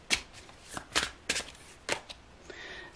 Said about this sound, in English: I shuffle like this, and I turn a pile.